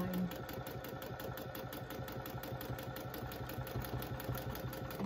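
A sewing machine runs continuously while stitching lines across a fabric portrait, a steady close mechanical whirr with a rapid even needle rhythm and no talking.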